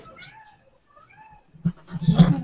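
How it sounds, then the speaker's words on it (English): A house cat lets out a few drawn-out, wavering meows, followed by a louder, noisier burst of sound nearby. "yelling cat."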